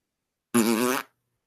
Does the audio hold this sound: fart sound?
yes